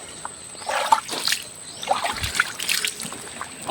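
Water trickles and splashes in uneven dribbles and small sloshes, close by and moderately loud, with no speech over it.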